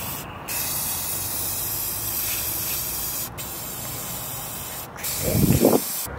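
Steady aerosol hiss from a spray paint can used for mixing colors in a dip, broken by a few brief pauses, with a short rustling burst near the end.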